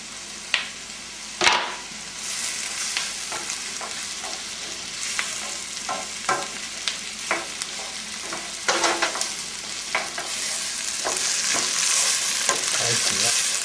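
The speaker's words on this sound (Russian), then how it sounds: "они едва обжарены, эти овощи" Vegetables, potatoes and garlic fry in a pan for pea soup, a steady close sizzle broken by repeated clacks and scrapes of stirring, with no voices.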